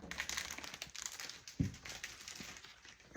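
Thin plastic packaging from a Diamond Art Club Stitch sparkle keychain kit being pulled open, giving quiet, close, irregular crinkling and rustling with one sharper crackle midway.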